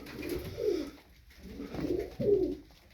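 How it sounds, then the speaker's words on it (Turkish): A çakmaklı ayna kuyruk pigeon gives soft, close coos in two or three rolling phrases with short pauses between them, alone with no talk. "kadronun en gözde kuşlarından birisi şu çakmaklı ayna kuyruk"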